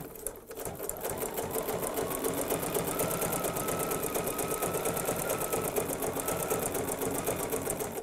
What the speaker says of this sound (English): I'm just letting the machine use that zigzag to draw those layers together and secure them.